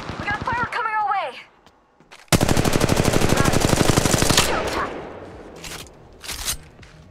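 Rapid automatic gunfire in the mobile shooter game Apex Legends Mobile, one long loud burst of evenly spaced shots, preceded by a character's voice and followed by fainter echoing shots.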